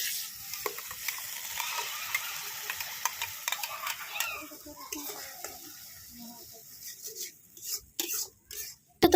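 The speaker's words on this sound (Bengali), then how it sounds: "আমি এখন এই যে টমেটোটা বসিয়ে দিয়েছি একটু হালকা ভাজা ভাজা হতে" Tomato fries in a pan for rohu fish curry, a hissing sizzle that thins out over time while a spatula scrapes and clacks against the pan in irregular strokes.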